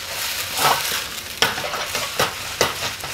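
Chicken pieces are tossed and mixed with a starch-and-water slurry, giving soft wet squelching and shuffling with a few sharp scraping strokes roughly once a second, close and fairly loud.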